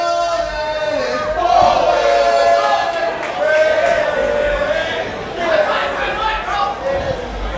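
A wrestling crowd at an Absolute Intense Wrestling show reacts to Alec Price with steady cheering and chatter, the noise rising and falling, while a voice talks over it.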